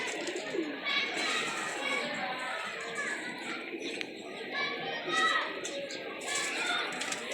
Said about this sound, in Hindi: लो जी, ये आ रहा है कबूतर